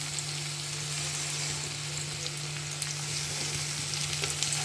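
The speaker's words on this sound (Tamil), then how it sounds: "இப்போ வந்து நம்ம அரைச்சி வச்சுருக்க இஞ்சி பூண்டு பேஸ்ட்டு ஒரு கொஞ்சோண்டு போட்டுப்போம்." Ginger garlic paste fries in a hot pan with a continuous, close sizzle and scattered small pops, steady throughout with a low background hum and no talking.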